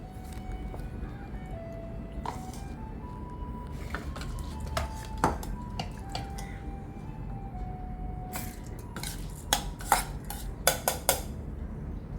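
Ingredients for rice puttu go clattering into a metal cooking vessel, with intermittent clinks and taps of utensils against the pot over steady low background noise, several sharper knocks toward the end.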